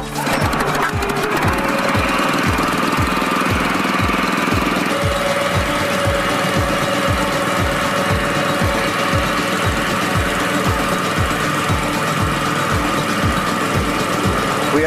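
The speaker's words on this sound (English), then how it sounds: "These jacks are attached to the central pump, and Bill is ready for liftoff" An engine drives a central pump powering hydraulic jacks that lift a structure, running loud and steady with a rapid regular chugging beat throughout.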